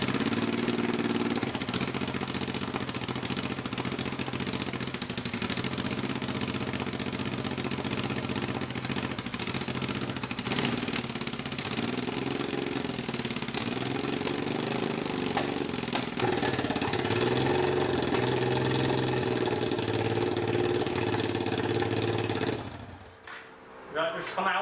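A Honda NTV650 motorcycle engine idles steadily with wadding stuffed in the exhaust pipe, giving a low, even rumble that runs for over twenty seconds before cutting off near the end.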